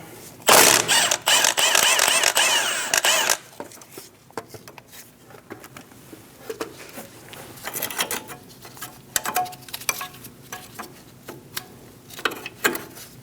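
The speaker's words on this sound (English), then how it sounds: "we're going to remove the bolt for the brake line off of the knuckle" A ratchet works loose the brake line bracket bolt on the front steering knuckle of a 2008-2015 Scion xB, a loud burst of rapid clicking followed by quieter intermittent ticks and mechanical clatter.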